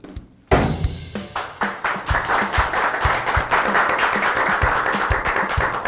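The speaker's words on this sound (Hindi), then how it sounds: "ताली क्या बजा रहा है?" Applause starts with a few separate hand claps, then quickly builds into dense, steady clapping from a small group nearby.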